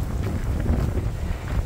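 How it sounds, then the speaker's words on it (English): Strong gusts buffet the microphone on a windy morning among the rock formations of City of Rocks, New Mexico, a loud, constant low rumble with no voices. "well, it's a very windy morning here at City of Rocks."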